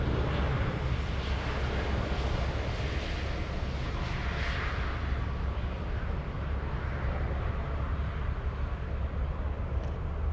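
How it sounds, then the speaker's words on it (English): Lufthansa Airbus A380 taking off at Munich airport: a steady, loud broadband jet roar with deep low rumble that holds evenly throughout, heard from a nearby vantage with no talk. "So these are the A380s that are going to be taken off"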